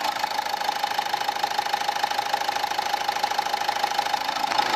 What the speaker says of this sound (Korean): 엔진 소리 한번 들어보시죠.